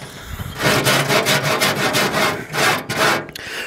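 A power drill fitted with a cleaning attachment scrubs a heavily caked, filthy grill, giving a loud, steady rhythmic scraping and rubbing with repeated strokes throughout, close up and without speech.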